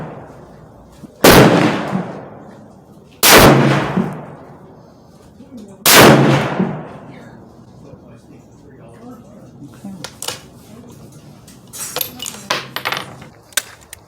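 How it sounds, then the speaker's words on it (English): Three loud, sharp rifle shots from a Savage Axis II XP ring out outdoors, a couple of seconds apart, each trailing off in a short echo, followed by lighter clinks and handling sounds. "I'm shooting at the right target"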